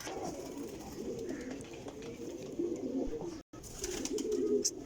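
Sialkoti black-faced pigeons coo softly and repeatedly at close range, low rolling calls over a faint outdoor background with brief chirps.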